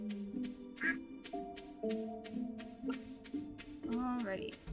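A duck in a farming video game quacks repeatedly in short nasal bursts over a steady musical background, a clear nearby sound.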